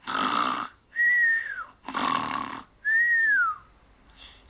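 A wolf snoring in grandfather's bed, performed as a comic voice imitation: loud, close alternating snores and rising-falling whistles, repeating in a slow steady rhythm with no talk.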